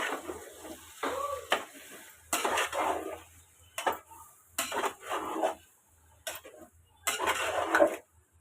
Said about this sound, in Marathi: आता हे सर्व हलवायचं आहे ना